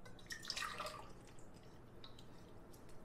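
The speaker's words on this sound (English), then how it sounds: "All I'm gonna do is pour that in a bowl." Pasteurized cream is poured into a bowl, giving a soft, brief liquid splashing and trickle near the start that fades into a faint dripping, quiet and close.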